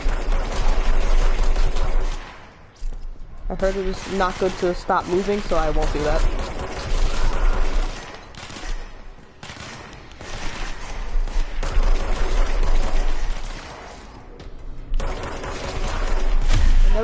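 Gunfire from the action video game Control, with bursts of shots and fast mechanical clatter running through the scene beside game music and sound effects, while someone talks over it.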